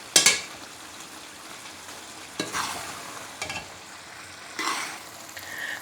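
A potato, pea and cauliflower curry, with ground coriander, cumin and fresh coriander added, is mixed in a pan. Four distinct spoon scrapes and stirs sound over a soft, steady simmering sizzle, close by and with no speech.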